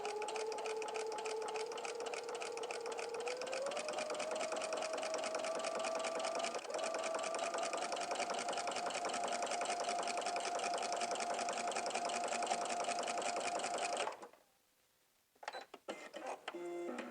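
Sewing machine fitted with a walking foot stitches slinky knit fabric in one long, steady, close run of rapid needle whirring, rising slightly in pitch early on, then stopping abruptly near the end, followed by faint handling sounds.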